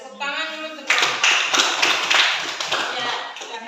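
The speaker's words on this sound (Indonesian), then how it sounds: "Ya, tepuk tangan dulu." Classroom audience clapping hands together, a burst of close, dense applause that starts abruptly and carries on steadily after a brief lead-in of voices and faint background chatter.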